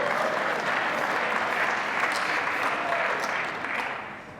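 Sustained applause from a lecture audience, a dense even wash of many hands clapping that holds steady for several seconds before easing slightly at the end.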